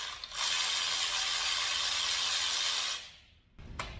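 A multi-beam dent repair tool has its height adjusted, giving a dense, continuous run of metallic ratcheting clicks for about three seconds close by, then stopping, with a faint knock afterward.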